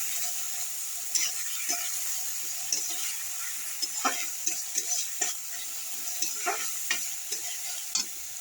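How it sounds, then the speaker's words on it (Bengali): Spices fry in a pan with a steady bright sizzle while a utensil stirs them, scraping and tapping against the pan in irregular clicks close by. "মশলা দিয়ে দিলাম, মশলাটাকে ভালো করে ভেজে নেব"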